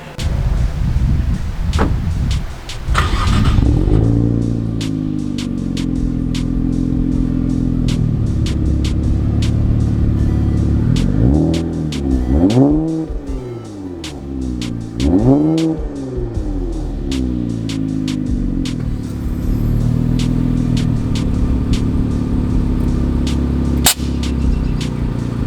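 A car engine cranks and fires up warm, then settles into a steady, close, rumbling idle with a couple of swelling revs midway through.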